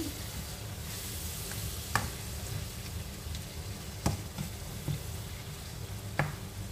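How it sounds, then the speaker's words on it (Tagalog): Chicken curry with carrots bubbles in a pot, a steady low simmering hiss punctuated by a few sharp clinks of a utensil against the pot. "So, pakuluin lang natin."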